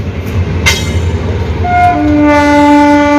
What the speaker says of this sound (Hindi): सामने से जा रही है दरभंगा जाने वाली नई दिल्ली दरभंगा बिहार संपर्क क्रांति एक्सप्रेस